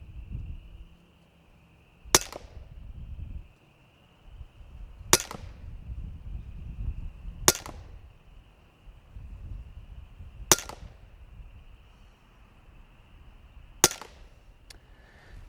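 Huben GK1 .25 caliber air pistol firing a five-shot string: five sharp, loud cracks spaced about 2.5 to 3 seconds apart outdoors, over faint background hum and low rustling, no talking.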